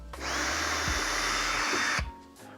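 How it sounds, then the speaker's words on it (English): A Ryobi power drill whirs up sharply and holds a steady high-pitched spin for about two seconds, then cuts off, close and loud with no voices. "I got my trusty Roby drill"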